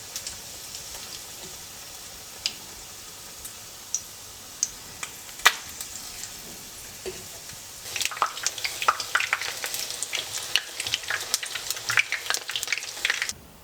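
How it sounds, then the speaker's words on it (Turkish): Meatballs fry in hot sunflower oil in a pan, with a soft sizzle and a few sparse pops at first, then a denser crackling spatter as more go in, close by with no talk. "uygun bir tavanın altı tamamen yağ ile kaplanana kadar ayçiçek yağı ekleyip yağ ısındıktan sonra köfteleri arkalı önlü bu şekilde kaplıyoruz"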